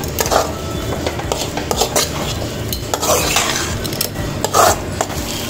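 A utensil stirs tomato fish rice in a pot, loud scraping and clinking against the metal over a constant low sizzle, close and continuous.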